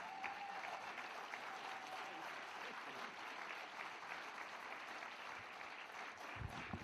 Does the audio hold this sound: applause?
yes